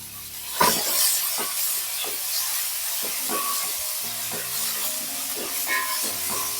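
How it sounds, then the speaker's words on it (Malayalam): Garlic, green chilli and onion sizzling and hissing in a hot pan as they are stir-fried for a banana flower thoran, with a steady crackle broken by repeated scraping and tapping of a spatula stirring close by, and no voices. "ഇനി വെളുത്തുള്ളി പച്ചമുളക് സവോള ഇതെല്ലാം ചേർത്ത് കൊടുക്കാം"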